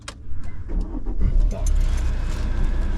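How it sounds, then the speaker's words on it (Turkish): A car engine turns over and settles into a low idle rumble in a driving-test car, with the air conditioning about to come on; voices talk over the engine. "şöyle bir arabayı çalıştır istesen de klima devreye girsin"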